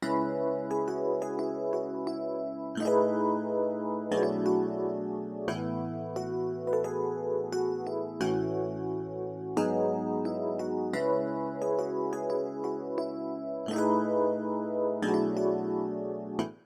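A 1990s-style R&B beat built on a looping piano melody: sustained, harmonically rich chords and notes that change every few seconds over a steady low end, loud and continuous with no voices.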